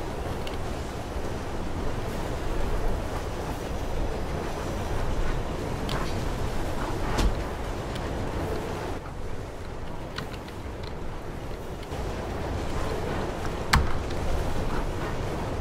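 Steady, loud rushing wind-like roar of riding atop a moving train in the video game Mirror's Edge, continuous throughout with occasional faint clanks and knocks, no talking.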